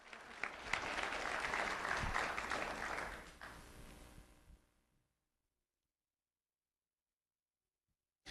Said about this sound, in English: Let's have a round of applause for Sergio.